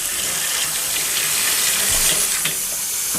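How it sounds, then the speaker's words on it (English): Hot tap water running over a strainer in a kitchen sink while chitterlings are prepared, a steady close splashing hiss that carries on without pause, with no voices. "This is the hot water I'm running over it."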